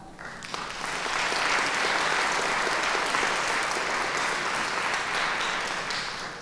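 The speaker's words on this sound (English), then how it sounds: "you deserve a round of applause" A middle school choir concert audience claps for the soloists, a dense, even round of applause that swells quickly and holds steady before tapering slightly.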